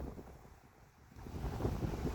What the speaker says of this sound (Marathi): असा आहे आपला हा कशेळीचा सुंदर समुद्रकिनारा